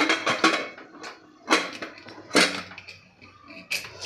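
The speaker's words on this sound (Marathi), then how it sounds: "आता आपल्याला कुकरचं झाकण लावून घ्यायचं आहे" Metal clanks and scrapes as a pressure cooker lid is fitted onto a pot of chicken curry in a home kitchen, several sharp knocks spread across a few seconds, close and fairly loud with no talking.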